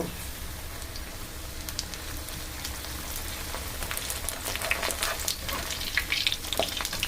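Cabbage vada frying in hot oil, a steady crackling sizzle with scattered sharp pops, close and moderately loud throughout, with no voices.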